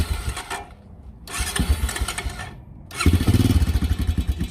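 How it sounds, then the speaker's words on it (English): An ATV engine on a Las Vegas desert tour cranks twice with a starter whine. Each attempt is cut by a short pause, then the engine catches and settles into a throbbing idle close by. "So to start the bike, you turn the key right, you press the black button"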